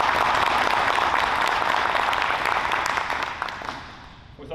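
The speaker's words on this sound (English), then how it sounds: "Let's give them all a round of applause." A graduation ceremony audience applauds with dense, sustained clapping that fills the hall, holding steady before thinning out and fading near the end.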